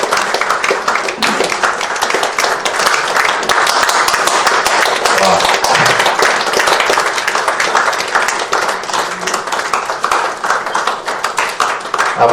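Audience clapping at a book release ceremony, a steady, dense patter of many hands that holds for the whole stretch, fairly loud and close, with faint voices mixed in underneath.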